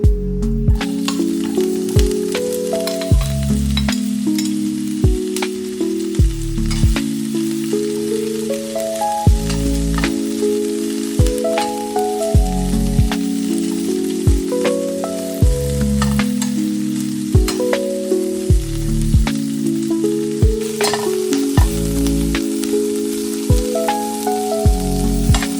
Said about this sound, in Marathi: त्यात एक मध्यम उभा कापलेला कांदा घालून तेलावर छान तांबूस होईपर्यंत भाजून घ्या।